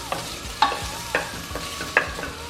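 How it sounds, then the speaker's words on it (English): A small chopped onion frying in about three tablespoons of oil in a pan, with a soft sizzle under repeated distinct clinks and scrapes of a utensil stirring. The sounds are close and clear, and no one speaks. "Just going to fry that until it goes brown"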